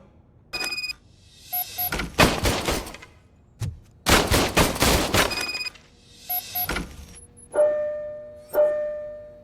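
An old service pistol is test-fired in the video game RoboCop: Rogue City: several loud gunshot bursts come in separate clusters, with high electronic beeps and tones between them, and there is no talking.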